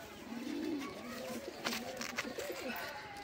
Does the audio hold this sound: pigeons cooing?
yes